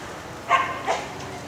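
Herding dogs working sheep at a herding trial during an Irish festival at the Pomona Fairplex, giving two moderately close barks about half a second apart against quiet outdoor background.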